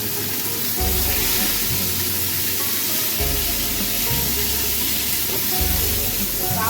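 Mango pieces frying in hot oil in a pan for mango chutney, a loud steady sizzle close by with occasional stirring underneath.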